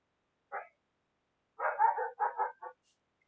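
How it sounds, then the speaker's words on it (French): A dog barks once, then after a pause gives a quick series of four or five sharp barks, fairly close in an otherwise quiet room. "C'est mon chien Gizmo"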